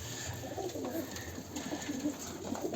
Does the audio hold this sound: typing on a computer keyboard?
no